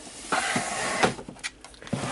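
A drawer slides open in a craft room where metal paper punches are stored, giving several short wooden knocks and scrapes, close and moderately loud, with no talking.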